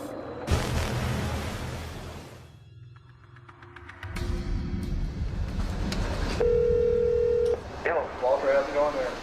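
A telephone being dialed for a call, heard as a series of short electronic keypad beeps followed by a steady held tone, set among low rumbling and dramatic background sound, with no one speaking.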